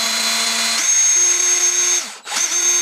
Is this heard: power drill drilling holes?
yes